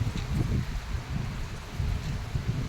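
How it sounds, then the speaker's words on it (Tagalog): Steady, heavy rain pours down in a dense, continuous roar with a low rumbling wash underneath, no voices. "Lakas ng ulan ito kanina pa."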